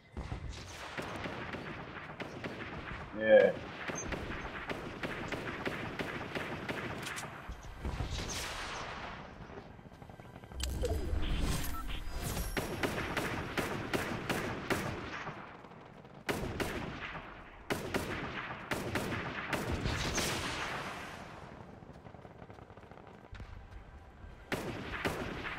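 Bursts of gunfire from the Fortnite video game ring out repeatedly, some in rapid strings and others as single sharp shots, spread across the whole stretch at varying distances and loudness, with little talk.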